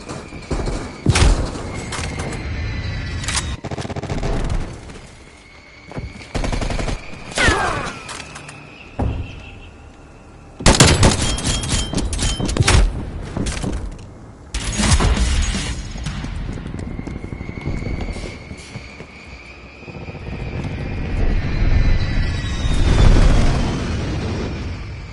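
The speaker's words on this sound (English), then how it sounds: "Hostile strafe run inbound." Hostile aircraft make a strafing run in Call of Duty, bringing repeated loud booms, rattling gunfire bursts and a rising jet-like whoosh, all heavy and continuous with no voices.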